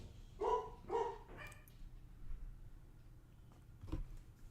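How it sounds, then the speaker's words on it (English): A dog barks twice in quick succession, fairly close and moderately loud, then gives a softer third yip, with a faint fourth bark later against quiet indoor background. "Dog's barking."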